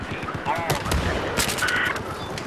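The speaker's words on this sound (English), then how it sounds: "Wait, who the heck is shooting at me?" Battlefield 4 gunfire, rapid automatic bursts and sharp single shots crackling close in a dense battle mix, with other game sounds layered over it.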